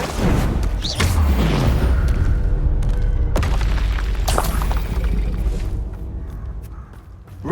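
Confringo blasting-spell explosions in Hogwarts Legacy combat: a loud, booming blast with a deep rumbling body, followed by sustained roaring debris and crackle that slowly fades, close and dominant.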